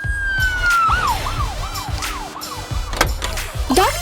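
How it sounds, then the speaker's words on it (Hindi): An ambulance siren wails in a rising and falling yelp cycle, loud and close, over a busy background with a brief voice near the end. "एम्बुलेंस।"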